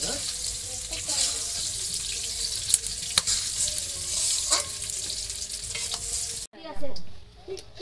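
Onions sizzling and frying in a pan while being stirred, a constant loud hiss with scraping stir strokes close by, then a brief sharper clatter near the end.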